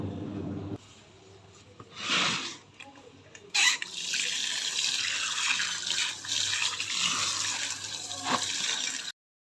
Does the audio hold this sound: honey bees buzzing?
no